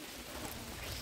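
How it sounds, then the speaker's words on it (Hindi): Steady rain falls at Doddabetta Peak near Ooty, a dense, even hiss of drops close by that runs without a break and with no voices. "बारिश आ रही देखो पूरा,"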